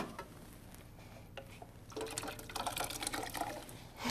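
Water pours into a cooking pan, a quiet trickle becoming a louder rushing splash for about two seconds, faint and close in a kitchen.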